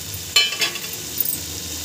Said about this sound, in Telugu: వీటిలో నుంచి ఆయిల్ సపరేట్ అయ్యేంత వరకు బాగా ఫ్రై చేసుకోవాలి